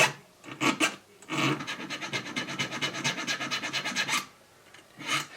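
Sandpaper rubbing a small Ruger 10/22 trigger part flat, close and fairly loud: a short burst of strokes, then a steady run of rapid back-and-forth rasping for about three seconds, and one more brief pass at the end.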